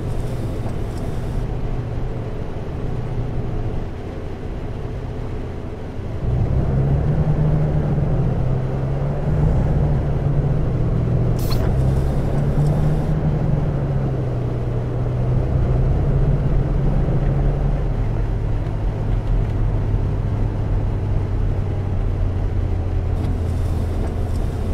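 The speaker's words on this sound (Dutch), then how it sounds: "Heel veel mensen zeiden wel dat ze het geluid van de motor heel erg mooi vinden klinken." Bus engine in Fernbus Simulator, a steady low motor drone that steps up in loudness after a few seconds and rumbles on continuously, with shifting pitch as it drives, and no speech.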